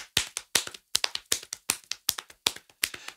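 Hands slap on legs in a quick, steady rhythm like galloping hooves, imitating a horse race; the crisp paired slaps sound close and alone, keeping an even pace throughout.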